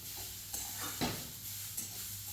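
Carrots being stirred and roasted in a pan for carrot semolina halwa, with soft scraping strokes and a few distinct spoon knocks over a faint steady sizzle.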